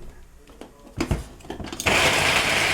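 An electric food chopper whirs loudly as it chops garlic, a steady, dense motor roar starting after a few short knocks and clatter of loading, running on alone to the end.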